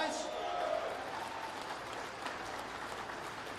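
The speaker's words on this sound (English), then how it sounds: "Give them a big cheer." A rally crowd cheers and applauds for the Capitol Police, a steady wash of clapping and voices that stays fairly even and moderately loud throughout, with a brief tonal whistle or shout near the start.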